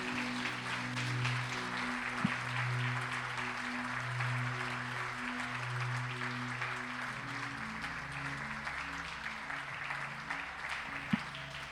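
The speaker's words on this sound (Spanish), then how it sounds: "Dale un fuerte aplauso" A church congregation applauds during a service, steady crowd clapping held at a moderate level under a sustained organ or keyboard chord that shifts pitch, with a couple of sharper knocks.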